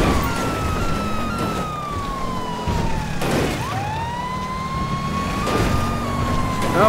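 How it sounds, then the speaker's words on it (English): Police car siren in the GTA V Online video game, wailing in long rising and falling sweeps that continue steadily over background traffic and engine noise. "this car and this poor sick siren"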